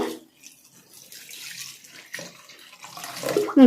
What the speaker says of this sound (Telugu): దీంతో పాటు మనం నీళ్ళు పోసుకుంటాము